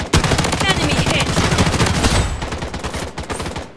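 A rapid automatic burst of gunfire from BloodStrike, close and loud, with tight repeating shots for most of four seconds before trailing into scattered cracks.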